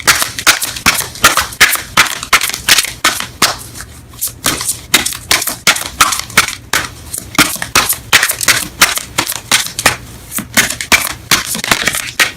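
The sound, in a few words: shuffling Romance Angels oracle cards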